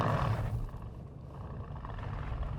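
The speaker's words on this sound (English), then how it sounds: "It's this sound that comes out of that engine, that is the engine exhaust system, that is just absolutely mesmerizing." A low, fairly faint exhaust rumble from a 2015 Mercedes-Benz C63 AMG estate with a 4.0 engine, heard from inside the car, holds steady for a couple of seconds after a slightly louder start.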